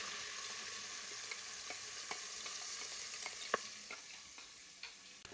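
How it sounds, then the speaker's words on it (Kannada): Ground masala frying on full flame for egg biryani, a faint steady sizzle with scattered clicks of stirring and a sharper tap midway. "ಇದು ಫುಲ್ ಉರಿಯಲ್ಲಿ ಸ್ಪೀಡ್ ಇಟ್ಟು ಫ್ರೈ ಆಗಬೇಕು"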